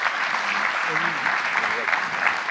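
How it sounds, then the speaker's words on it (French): Audience applause at an eco-activities awards ceremony, a steady wash of clapping from a crowd lasting a few seconds, with faint voices murmuring underneath. "Vous pouvez les applaudir."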